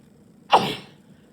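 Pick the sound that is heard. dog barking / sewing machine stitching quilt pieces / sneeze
sneeze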